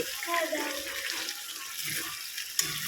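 Water pours into a pan of browned, oil-releasing mutton curry, a close rushing splash that gurgles and settles into a softer bubbling hiss, with a sharp clink near the end.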